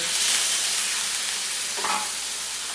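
Ground pork being stirred with annatto in a hot pan, a steady close sizzle of frying meat with scraping stir strokes running throughout, no voices.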